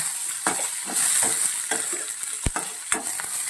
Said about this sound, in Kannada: ಇದಕ್ಕೆ ಈರುಳ್ಳಿನ ಆ್ಯಡ್ ಮಾಡಿ ಫ್ರೈ ಮಾಡೋಣ